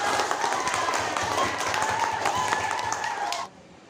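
Classroom children applauding together, a dense steady clatter of many small hands with faint voices mixed in, running loud and even before cutting off abruptly near the end.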